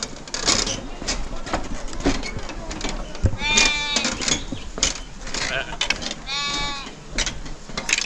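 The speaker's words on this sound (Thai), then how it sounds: "ตัวนี้เป็นฟาร์มแกะ" Sheep on a sheep farm at Mon Jam in Chiang Mai give two distinct, wavering bleats a few seconds apart, heard over someone talking and light outdoor background noise.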